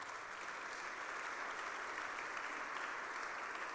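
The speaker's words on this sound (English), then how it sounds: "If you could give them a round of applause, I'd really appreciate it." Steady, even crowd applause at a State of the City address in Carmel, Indiana, distant and fairly faint, with no voices over it.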